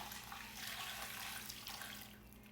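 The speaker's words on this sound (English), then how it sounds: "Some beef broth. We're just gonna pour that into the pot." Beef broth is poured into a pot holding a pot roast, a quiet, continuous splashing stream that tapers off at the end, with no talking.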